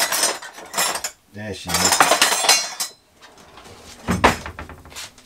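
Metal cutlery clinks and rattles in short bursts as someone rummages for a tablespoon in a narrowboat galley, with a person talking in between.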